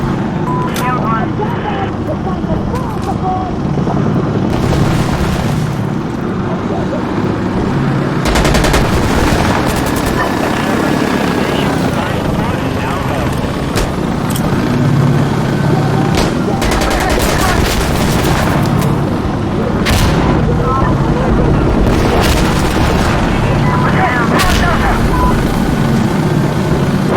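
Gunfire crackles throughout a firefight in Insurgency Sandstorm, with bursts of automatic fire and single shots near and far over a steady background drone, while voices talk over the action.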